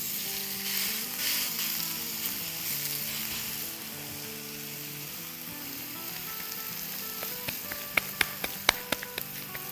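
Burger patties sizzle steadily in a hot pan over a low flame, a continuous bright frying hiss with faint scraping, and a few sharp taps toward the end.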